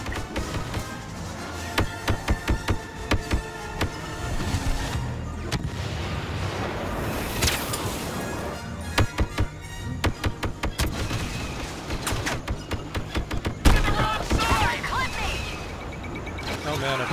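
Dense, continuous battle din from Star Wars Battlefront's Walker Assault on Hoth, with rapid blaster fire aimed at an AT-AT walker, repeated sharp shots and booming explosions layered over game music and voices.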